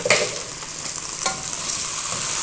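Potato and eggplant with turmeric frying in hot oil, a bright crackling sizzle with a sharp burst at the start and a few stirring scrapes, then settling into a steady hiss, close and moderately quiet, with no talking.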